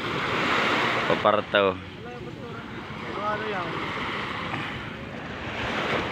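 Ocean waves rolling near a fishing boat at sea, a continuous wash of surf and wind noise with swelling rushes, while a voice speaks briefly early on.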